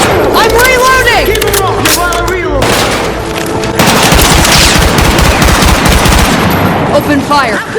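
Intense video game gunfire in a first-person shooter: sustained automatic weapon bursts and booming explosions fill the whole stretch loudly and continuously, while game character voices call out over the shooting.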